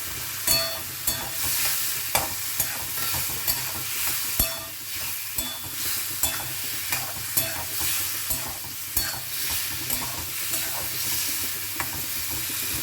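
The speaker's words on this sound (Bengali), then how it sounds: "আলু দিয়ে একটু কষিয়ে নিচ্ছি।" Potatoes being stir-fried in a pan with melted tomato for an Assam-style rohu fish tenga curry, a continuous close sizzle broken by frequent sharp scrapes and knocks of a spatula stirring.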